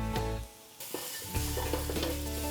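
Lemongrass frying in a little oil in a pan for a Peranakan chicken dish, a close hiss and sizzle with stirring scrapes and brief clinks after a short quieter moment.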